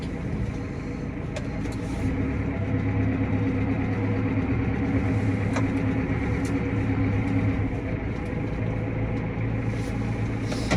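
A giant tractor engine runs in a constant loud low drone close by during pit cleaning, steady throughout with no talking.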